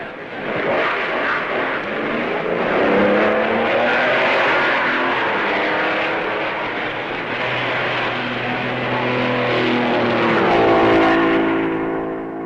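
Racing cars from the 1955 Belgian Grand Prix roar past, a loud sustained engine drone rising and falling with shifting pitch as the cars pass close by, no speech.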